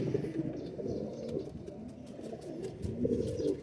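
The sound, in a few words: teddy pigeons cooing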